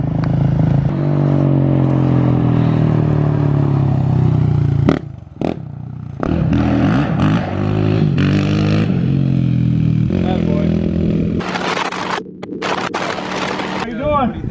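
A new quad ATV on its first ride revs and drones close by, its engine note climbing and dropping with rattling clatter, while people talk over it.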